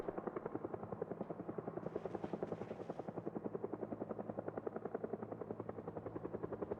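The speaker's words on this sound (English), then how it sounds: "The helicopter's doing another run." A helicopter passes overhead in the zombie survival game Project Zomboid, its rotor producing a steady, fast rhythmic chop with a continuous low engine drone that stays loud and close for the whole stretch, with no voices.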